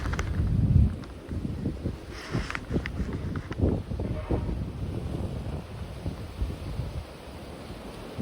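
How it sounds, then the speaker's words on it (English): A strong gust of wind during an intense snowstorm in Montreal, Quebec, in January 2024 buffets the microphone with a loud, continuous low roar that surges hardest at the start, then keeps rumbling unevenly. "Are we gonna get one more big gust of wind to end it with?"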